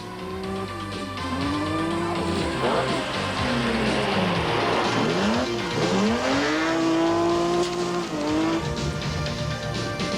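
A Nissan Skyline V6 4x4 Turbo rally car pulls away at the 1988 Volkswagen Algoa Rally, its engine rising and falling in pitch through a couple of gear changes, loud and continuous, with a commentator talking over it.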